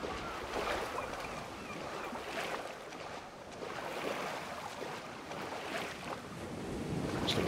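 Splashing, churning water from wading across a river in Ghost Recon Breakpoint, a continuous rushing wash with gentle surges and wind-like hiss, close and steady throughout.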